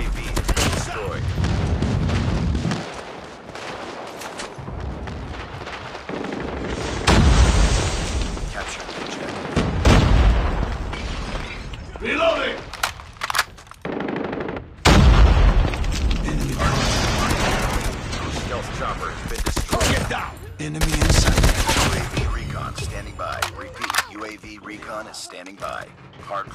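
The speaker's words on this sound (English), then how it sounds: "Friendly airstrike incoming" Airstrike explosions and rapid gunfire in the Call of Duty Mobile video game: loud bursts of automatic fire and heavy booming blasts, broken by brief lulls, with mechanical clatter and game voices in between.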